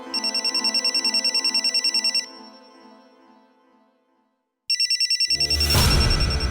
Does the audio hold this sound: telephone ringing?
yes